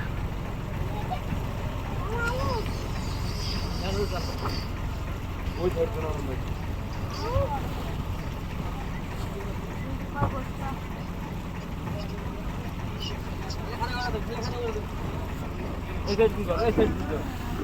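A two-storey riverboat cruises on the water, its engine a steady low drone throughout, with people talking over it.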